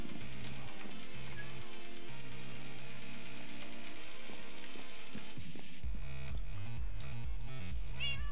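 A cat meows in the Minecraft modpack Modern Skyblock 2 over continuous in-game background sound and a steady hum, with clicking game noises near the end.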